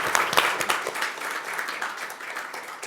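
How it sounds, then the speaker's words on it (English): Audience at a university lecture applauds, a dense burst of clapping that starts strong and gradually thins, heard at moderate distance. "can we get a round of applause for our amazing speakers and Inês for moderating?"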